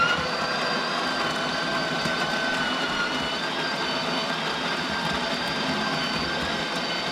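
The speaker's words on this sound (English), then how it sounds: "You put the wand in, it just starts grinding right away." Delonghi La Specialista espresso machine grinding coffee beans, a steady close whirring grinder drone that runs evenly through the whole clip with no talking.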